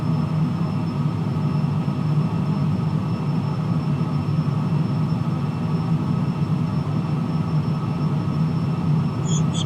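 Jet engines hum in a steady, low drone with a faint high whine running over it throughout, inside a flight simulator cockpit during a takeoff roll, with no voices.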